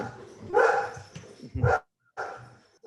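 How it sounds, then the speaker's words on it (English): A dog barks in short bursts, a few loud close woofs separated by gaps, with faint talk around them in a group conversation. "that's my dog."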